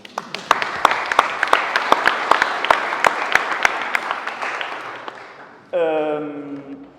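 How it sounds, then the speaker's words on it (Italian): An assembly of the Friulian linguistic community breaks into applause, with distinct close claps standing out over a dense patter. The clapping tapers off after about five seconds, and then a voice starts speaking. "facciamo un applauso così"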